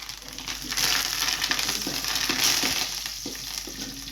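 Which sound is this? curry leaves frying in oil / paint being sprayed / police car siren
curry leaves frying in oil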